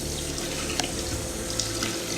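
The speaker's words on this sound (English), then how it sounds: "I'm going to take the rice, pour it into the strainer, and just get the water running in there." Steady stream of water from a kitchen faucet pouring over rice in a strainer, a continuous close hiss and splash with no talking.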